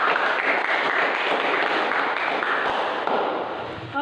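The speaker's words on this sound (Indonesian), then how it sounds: "Sekali lagi Ibu minta kalian berikan aplaus." Students in a classroom clapping together, a steady, fairly close round of applause that holds and then tapers slightly at the end.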